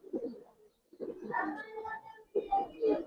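Chinese pigeons cooing softly in a few short bursts, close by, with brief gaps between the coos and no talk.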